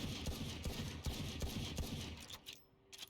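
The Sheriff pistol fires repeatedly in a video game, a quick run of about eight sharp shots in even rhythm, moderately loud and close, ending in a brief mechanical click with no talk over it.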